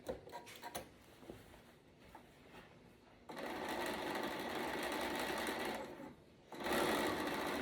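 A sewing machine runs a dress seam at a stitch length of about 3, with a steady, close mechanical whir in two long runs separated by a brief pause, after softer scattered handling noises at the start.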